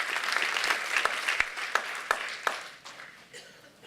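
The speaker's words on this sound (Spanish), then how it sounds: "un aplauso a Jesucristo" Church congregation applauding during a Spanish-language sermon, a short burst of many hands clapping with a few sharp louder claps standing out, fading toward the end.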